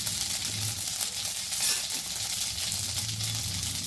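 Mustard seeds and cumin sizzle in hot oil while batata vada is prepared: a dense, steady crackling hiss runs for the full four seconds, close up and fairly loud, with faint popping in the texture.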